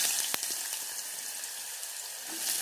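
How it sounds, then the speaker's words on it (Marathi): Pumpkin is tipped into hot oil already seasoned with cumin and asafoetida, and a steady close hiss of sizzling holds throughout with a faint early tick. "जिरे टाकल्यानंतर आपल्याला तेलामध्ये हिंग टाकून घ्यायचं आहे आणि यामध्येच आपण टाकणार आहोत भोपळा"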